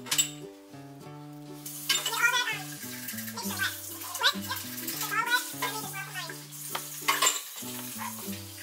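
A fork stirring food in a pan while making a low-carb guava and cheese pastry, soft scraping and clinks under continuous talking voices, with a faint sizzle.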